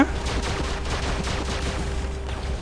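Rapid, continuous gunfire from robot weapons in the mobile battle game War Robots, a dense stream of close shots over a low rumble, with no break across the few seconds.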